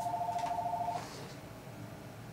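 A phone call ringing and redialing, a short pulsing electronic tone lasting about a second that then cuts off into quiet room noise.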